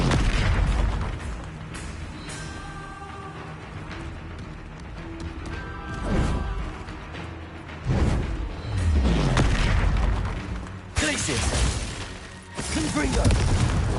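Repeated fiery spell explosions during Hogwarts Legacy combat, with several booming bursts landing irregularly over busy battle noise, each swelling loud then settling, while a voice talks intermittently.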